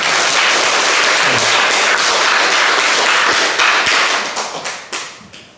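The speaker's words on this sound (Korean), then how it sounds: "박수 한번 칠까요?" A congregation at a church talk on healing and freedom from a harsh, competitive life bursts into loud, dense applause that holds steady, then thins into scattered claps and fades toward the end.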